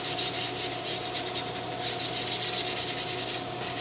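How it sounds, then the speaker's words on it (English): Folded paper rubs back and forth across a wooden gun stock in quick, steady strokes, a close and continuous light scratching with no voices. "I'm going to sand the area that I'm going to squeeze in the vise"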